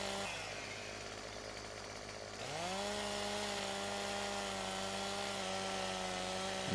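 A chainsaw cuts a felled tree into chunks, its engine roaring loud and close without a break, the pitch dipping briefly and then climbing back to a steady high drone as it bites into the wood.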